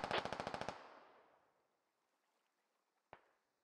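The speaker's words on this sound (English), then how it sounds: "Those are enemy mortars." Enemy mortar fire in a video game produces a rapid burst of loud, evenly spaced impacts that fade into a long decaying rumble, followed by one more distant thud.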